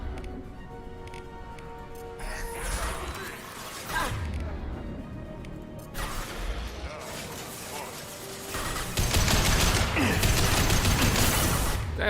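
Gunfire in Mass Effect 2 during a firefight: bursts of rapid shots and mechanical clatter mixed with game sound effects, growing louder and denser toward the end, with speech over parts of it.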